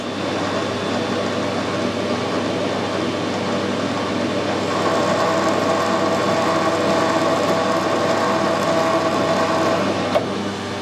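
A metal lathe with a clutch and engaged half nuts runs steadily while cutting a thread with cutting oil, a continuous close mechanical hum and whir with a faint click near the end.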